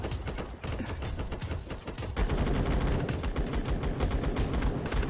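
Dense, continuous gunfire from a Roblox Blackhawk Rescue Mission 5 battle at a power plant, rapid overlapping shots and bursts filling the whole stretch, growing heavier partway through, with no speech.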